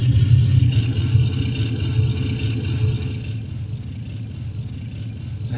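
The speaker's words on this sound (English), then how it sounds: "Can you actually hear me above the roar of the engine?" The engine of a Ford Tri-Motor in a flight simulator drones with a steady low roar, loud and continuous, easing slightly toward the end.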